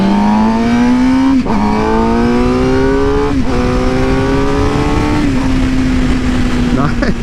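A Suzuki GSX-R 750 motorcycle accelerates hard on a test ride. Its engine note climbs steadily, then dips briefly at each of three gear shifts, loud and close over wind noise.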